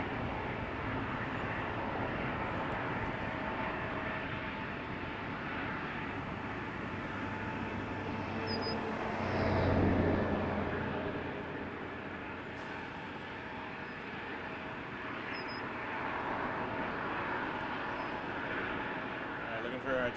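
An airplane takes off from runway 05 at Toronto Pearson Airport, a broad, steady engine roar heard from a distance that swells briefly midway, with a person talking over it.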